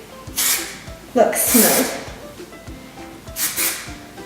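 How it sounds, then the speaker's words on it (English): Hairspray from an aerosol can misted over curled hair in a few short, close hissing bursts, with someone talking over and between the sprays. "Finish off with some hairspray."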